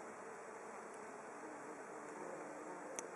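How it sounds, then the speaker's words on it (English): Bees, including a queen tree bee, forage on phacelia flowers with a faint, continuous soft buzz against quiet outdoor background hiss, with a brief tick near the end. "So many bees on here."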